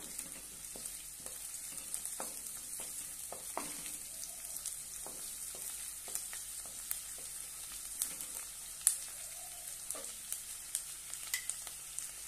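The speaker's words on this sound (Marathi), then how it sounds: "थोडासा कढीपत्ता आणि छानपैकी परतून घेऊया" Finely cut green chillies and curry leaves sauté in a pan for sweet corn poha, a soft steady sizzle broken by repeated spatula taps and scrapes, with no talking.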